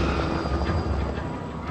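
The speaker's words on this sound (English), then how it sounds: "Oh god. Helicopter?" A helicopter in the video game The Last of Us Part 1 drones with a dense, steady rotor and engine roar, loud and continuous throughout.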